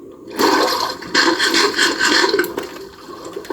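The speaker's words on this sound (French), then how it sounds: "j'ai réussi à faire une cascade." A waterfall in a survival video game makes a loud rush of splashing, gushing water in uneven surges that fades toward the end. No voices are heard.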